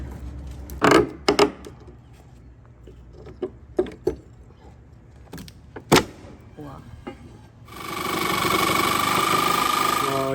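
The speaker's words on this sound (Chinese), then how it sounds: "我来看看这个撬能不能把这个钉子起下来吧" A pry bar works nails out of rotten balcony deck planks, with several sharp creaks, squeaks and knocks at irregular intervals, followed near the end by a sustained loud rushing noise.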